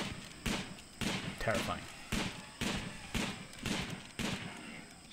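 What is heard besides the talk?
gunfire in the video game RimWorld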